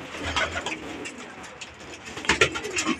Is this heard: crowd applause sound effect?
no